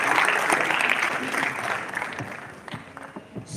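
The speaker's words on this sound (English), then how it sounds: "A round of applause for him." Audience applause at a DevFest Ado-Ekiti 2025 tech conference session, a steady wash of clapping from a seated crowd that thins and tapers toward the end.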